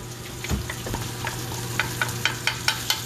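Garlic and onion frying in a pot previously used for lentils, with a low steady sizzle, a couple of soft knocks early on, and a run of evenly spaced sharper spatters or stirring clicks toward the end.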